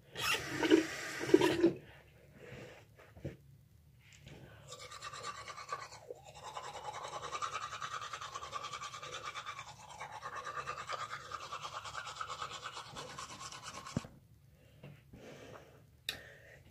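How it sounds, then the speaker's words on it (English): Teeth being brushed with a toothbrush, a close, scratchy scrubbing that runs for several seconds between short pauses, with some breathing and a brief splash of water near the start. "Brush my teeth."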